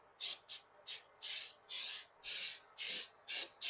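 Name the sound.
spray bottle spritzing liquid onto a car bumper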